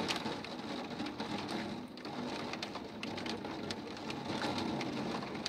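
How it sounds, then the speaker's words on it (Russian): Heavy rain pours steadily during a strong thunderstorm in Edmonton, a dense, close hiss of drops striking surfaces with scattered sharp splatters, with no voices. "А то у меня еще тут дождь идет."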